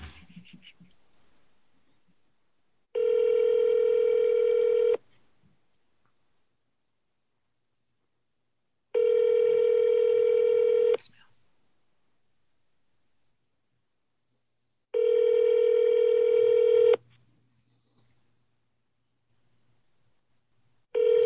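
Telephone ringback tone on an outgoing call, three long steady buzzing rings spaced several seconds apart with near silence between them and no talking.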